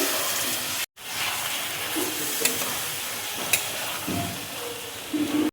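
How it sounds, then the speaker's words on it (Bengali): Water poured into a pan of jackfruit curry cooking on a gas stove, a loud continuous sizzle and hiss with steam and occasional stirring scrapes, close by, after a brief drop at the start. "অল্প করে দেখো জল দিয়ে দিচ্ছি।"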